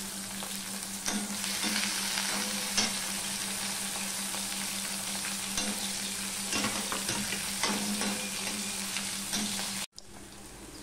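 Garlic and slit green chillies fry in a pan with a continuous bright sizzle and crackle, punctuated by occasional clinks and scrapes of stirring, close up and with no talking.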